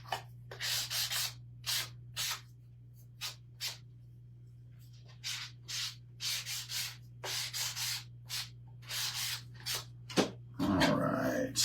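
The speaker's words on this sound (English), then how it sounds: "Just over here, trying to make slivers with a sander." A sander shaves a carrot-shaped craft piece into slivers in short, repeated rasping bursts, some brief and some longer, over a steady low electrical hum, with a louder clatter at the end.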